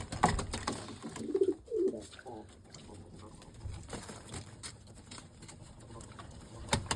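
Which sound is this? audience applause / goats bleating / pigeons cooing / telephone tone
pigeons cooing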